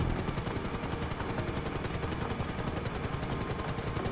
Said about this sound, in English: A lot of people are struggling with the helicopter.